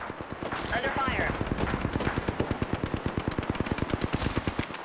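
Rapid automatic gunfire in the video game Apex Legends rattles in a steady, fast burst of evenly spaced shots that runs for several seconds, with a player talking over the start.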